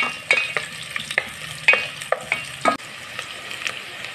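Garlic and onion sizzling in a pan for a Filipino corn soup, with a spoon stirring in a steady rhythm of sharp scrapes and clicks over the continuous close frying hiss.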